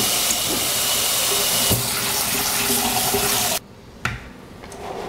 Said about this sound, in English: empty them into my strainer right here and then give them a good rinsing